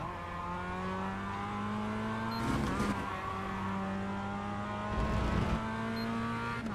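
Small race cars in iRacing drone steadily with layered engine tones, rising and falling through the lap, with two brief bursts of tire squeal or curb rumble around the middle and near the end.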